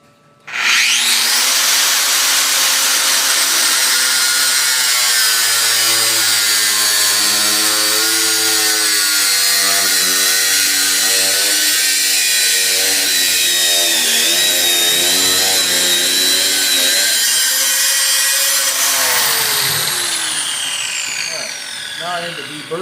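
A power tool runs loud and steady for about twenty seconds, cutting a quarter inch off metal stock in a garage shop with gas engines, its pitch wavering under load before spinning down.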